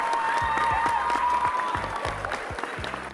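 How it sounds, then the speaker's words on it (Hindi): Applause from a studio audience on a Hindi comedy talk show, rising under a sustained tonal music bed with a steady beat, the clapping fairly loud and continuous for about three seconds. "तालियाँ।"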